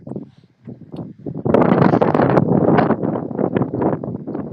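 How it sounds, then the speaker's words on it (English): Gusty wind roars across the microphone outdoors, starting softly and then building into a loud, steady rush. "Sounds a little windy."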